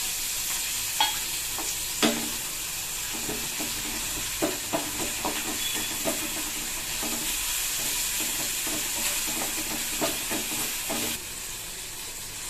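Ground onion fries in a pan under a steady hiss and sizzle, with repeated sharp scrapes and taps from a spoon stirring it through.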